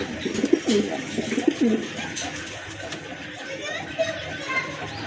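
Pigeons, including a breeding pair and a hen, coo in low, rolling bursts near the start, with people chatting nearby and general outdoor bustle at a pigeon sale.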